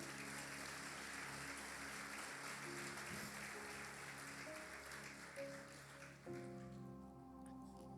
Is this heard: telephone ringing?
no